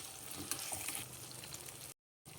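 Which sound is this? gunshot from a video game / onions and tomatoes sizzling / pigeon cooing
onions and tomatoes sizzling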